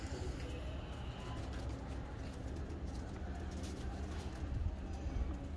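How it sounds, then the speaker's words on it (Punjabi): Pigeons coo softly in the background under a steady low rumble and hum, with faint chirps; the calls are distant and partly masked. "ਵਟਸਐਪ ਦੇ ਪਿਆਰ ਵਾਲੇ ਕਬੂਤਰ ਮੀਆਂ ਸਾਹਿਬ ਇੱਧਰ"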